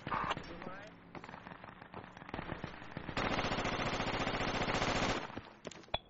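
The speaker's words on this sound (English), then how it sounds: "Do you know where that fire is coming from on the roof?" Gunfire from a rooftop in the military shooter game Project Reality, scattered single shots giving way to a long sustained automatic burst, loud and close, with a player voice talking over the early shots.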